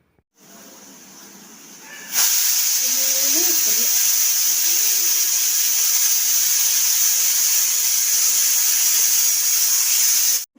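A pressure cooker cooking tapioca lets out a loud, sustained steam whistle. It bursts in abruptly and hisses steadily close by for about eight seconds, with a faint voice briefly underneath near the start.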